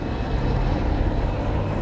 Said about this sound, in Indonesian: Dua helikopter waterbombing diterjunkan untuk membantu proses pemadaman di lokasi lahan yang terbakar.